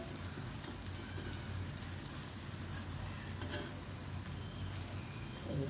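Egg-and-milk batter-dipped bread fries in a little oil, giving a faint, steady crackling sizzle with small popping spatters throughout and no voices.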